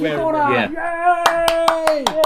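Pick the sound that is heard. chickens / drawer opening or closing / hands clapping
hands clapping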